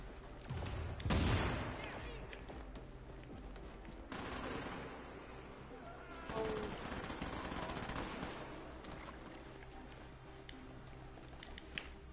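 Machine gun fire in a PS4 shooter game comes in bursts, loudest near the start and again midway, with softer crackling between, all heard through game audio.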